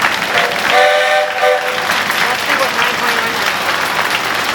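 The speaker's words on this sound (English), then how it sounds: "A round of applause there." Outdoor crowd applause at a parade as a veteran rides past in a 1945 Willys Jeep, scattered steady clapping with a tonal whistle-like horn sounding early and talk over the crowd.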